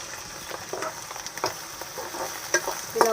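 Sliced onions and green chilies frying in hot oil, a continuous crackling sizzle with intermittent spoon scrapes and stirring, close and moderately loud.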